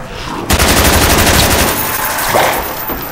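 Sustained rapid machine gun fire in a zombies video game, loud and continuous for about three seconds after a short lead-in, with game sounds mixed underneath.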